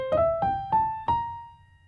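Clean guitar plays four plucked single notes climbing step by step in a blues lick drawn from the major blues and mixolydian scales, each note ringing briefly, quiet and close, with the last one sustaining into a fade.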